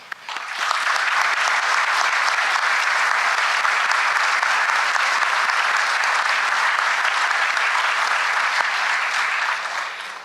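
Sustained audience applause at a law school honors and awards ceremony, a dense, steady roar of many hands clapping that swells quickly and holds for about ten seconds without voices.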